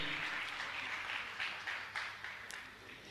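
Audience applause at a Jain religious discourse gathering, a steady wash of clapping that sounds fairly distant and soft, continuing evenly throughout without voices.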